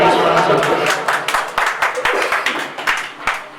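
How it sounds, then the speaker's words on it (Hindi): Audience claps at an Urdu poetry recital (mushaira), a burst of scattered, uneven hand claps that carries on steadily for a few seconds, with voices mixed in underneath. "एक जोरदार ताली बजा दें"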